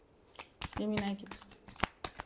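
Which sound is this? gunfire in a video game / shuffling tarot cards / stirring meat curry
shuffling tarot cards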